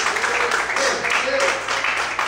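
Church congregation clapping in praise during a sermon, dense continuous applause with swells, loud and close, with speech running over it.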